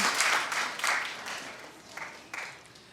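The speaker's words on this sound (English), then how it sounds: "And you can clap on that if you like." A studio audience at a daytime talk show claps in a few short bursts. The applause swells and fades in separate waves that grow thinner and more scattered toward the end.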